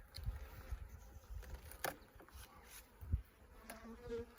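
Honey bees from a Carpathian colony buzz softly around an open hive, a faint, continuous hum with occasional louder passes of single bees and light handling knocks.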